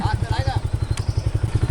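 A Bajaj Freedom 125 CNG commuter motorcycle engine pulses steadily and close, a rhythmic low throb running throughout, with a person talking over it.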